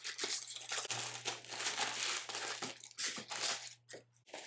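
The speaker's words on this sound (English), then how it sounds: "Again, we're just separating the tape." Packing tape being pulled apart and separated on a Dept 56 collectible box, giving a continuous close crinkling, tearing rasp with short pauses and a steady low hum underneath.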